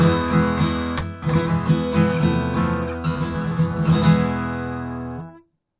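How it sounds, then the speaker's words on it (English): Rapid flamenco rasgueado strums on a classical guitar, the strings struck with the backs of the nails in quick bursts of ringing chords, close and solo, ending with a final chord that cuts off. "This technique is ubiquitous in flamenco style playing, where we strum the strings with the back of the nails."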